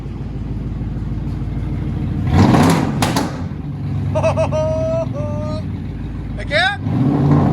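A 2005 Ford F-150 King Ranch 5.4L Triton with straight-pipe true dual exhaust rumbles loudly at close range and is revved in several swelling bursts, while people talk over the engine.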